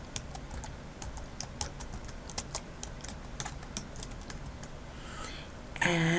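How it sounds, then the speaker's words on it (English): Quick, light keystrokes patter on a computer keyboard in a steady irregular run, close and fairly quiet, over faint background hiss. "we're going to type in here Google Gadgets"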